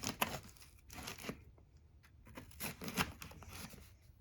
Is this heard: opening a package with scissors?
yes